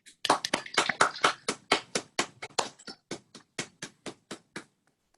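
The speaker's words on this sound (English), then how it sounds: "give a big, well-deserved round of applause for all of our poets" A small group claps briskly over a video call at a virtual poetry open mic, distinct hand claps in a quick uneven rhythm that thin out and fade, sounding slightly compressed, with no voices.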